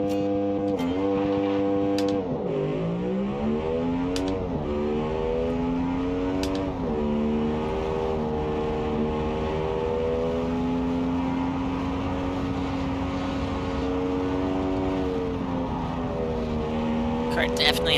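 A car engine in the driving game BeamNG, racing up Pikes Peak, revs hard and steadily through repeated gear changes, its pitch climbing and dropping in a continuous loud drone close to the listener.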